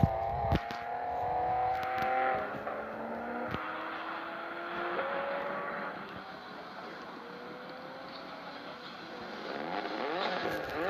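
A Nissan car drives past at moderate distance, its engine tone rising and falling in several sweeping passes, fairly faint against outdoor background noise.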